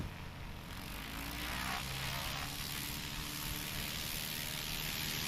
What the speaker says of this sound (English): Mike Council in the Super Cruiser out of Moses Lake, Washington